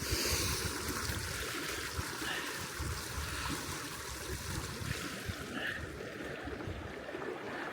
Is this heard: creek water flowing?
yes